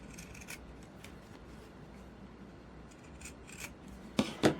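Scissors snip through the fabric corners of a sewn bookmark, a few quiet, separate cuts with soft rubbing between them, ending in two sharper, louder snips.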